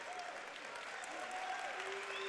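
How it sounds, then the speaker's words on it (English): A basketball crowd at an NAIA opening-round game between Carroll and Mount Vernon Nazarene applauds a player leaving the court, with steady, even clapping throughout at a moderate distance. "He's getting a hand from the crowd"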